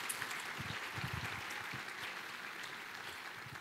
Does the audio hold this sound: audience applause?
yes